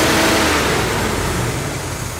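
An old engine running after a cold start: a loud, dense, continuous mechanical chatter and roar, steady throughout with slight fade at the end, no voices.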